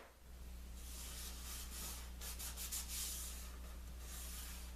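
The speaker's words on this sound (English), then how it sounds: "A little sanding." Soft, steady rubbing of sandpaper on wood, faint and close, over a constant low electrical hum, with no voices.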